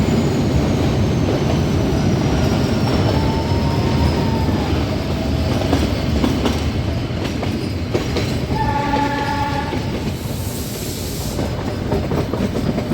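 The Ooty toy train rumbles steadily through a long tunnel, a loud continuous rolling roar with a horn blast sounding midway.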